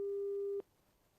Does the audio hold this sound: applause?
no